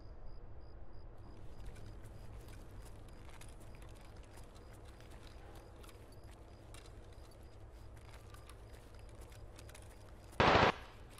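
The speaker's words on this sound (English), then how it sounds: "There's gunshots." Distant gunfire in a raid in the video game Escape from Tarkov: faint scattered pops in a quiet, hissy background, then a single loud, brief burst close by near the end.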